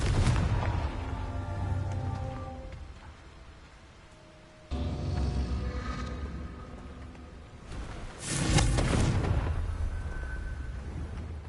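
Confringo blasting spell going off in a Harry Potter video game, two or three deep booming explosions with rumbling tails, loud and close, separated by quieter gaps.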